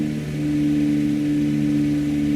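A Cessna 404 Titan twin-engine aircraft droning steadily in a flight simulator game, one engine throttling down while the other is dead, a loud, even tonal hum throughout.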